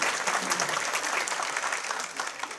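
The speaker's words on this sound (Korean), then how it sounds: "다시 한번 박수 한번 주세요" Crowd applause at an Incheon United football club fans' day during the club owner's greeting, a thick sustained wash of clapping from many hands that tapers slightly toward the end.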